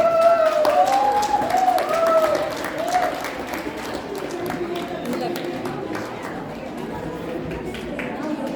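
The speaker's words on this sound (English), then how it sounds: "a big round of applause to welcome Madame Michelle Tetlacqui" A crowd at a Maria Clara fashion show applauds to welcome a guest, steady clapping and chatter under a sustained melodic tone that fades out partway, then softer clapping continues.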